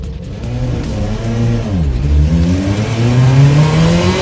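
Rally car engine revving hard from inside the car, pitch dipping on a gear change and then climbing steadily, loud and close with no talk over it.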